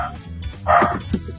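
A pet dog lets out a few short, yipping barks close by in a home, quick and sharp with small gaps between them.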